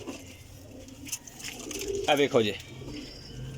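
Large flying pigeons from a home loft in Jhelum, Pakistan coo softly and steadily at close range, with someone speaking over them.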